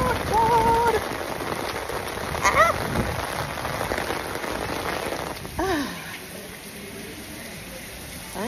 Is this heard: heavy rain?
yes